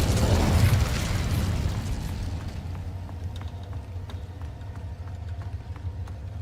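An Incendio fire spell cast in the game Hogwarts Legacy bursts out as a loud whooshing blast, then fades into a lingering low rumble with faint crackles.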